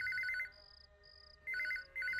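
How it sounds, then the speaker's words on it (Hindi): A telephone bell rings in a Hindi police drama, two bursts of trilling rings separated by a short pause with a thinner tone between, clear and alone without talk. "फोन बज ही गया।"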